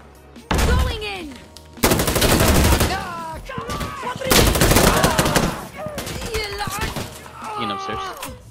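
Heavy gunfire from the video game Insurgency Sandstorm breaks out in loud bursts of rapid automatic shots with single cracks between them, close and dense, and a person speaks over parts of it.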